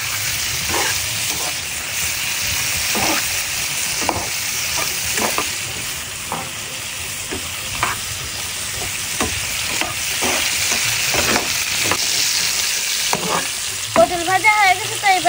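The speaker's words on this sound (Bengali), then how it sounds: "পটল ভাজা হয়ে গেছে। তো এবার আমি নামিয়ে নিচ্ছি।" Pointed gourd (potol) slices frying in hot oil in a pan, a steady close sizzle broken by repeated scraping stirs of the spatula, with no talking.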